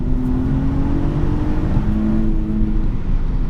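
A BMW E46 fitted with a 3.46 differential picks up speed at low road speed, its engine giving a continuous low hum with a mild rising tone, steady and close from the cabin with no talking.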